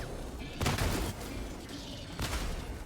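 Gunfire in the shooter game Helldivers 2, heard as two short, sharp volleys about a second and a half apart over a low background, fairly faint in the mix.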